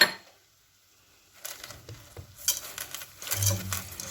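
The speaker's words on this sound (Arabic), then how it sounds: "ونفضل برضو نشوح شويه كده" Vermicelli rice and pasta being sautéed in oil in a pot for koshari, starting quiet then building into sizzling with scraping stir strokes and pot clatter.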